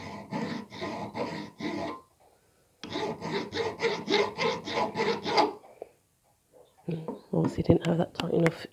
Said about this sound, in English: it is just a matter of taking off the top with a file